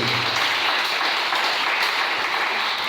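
A church congregation applauds the Lord, steady dense clapping filling the whole stretch at full loudness with no voices above it.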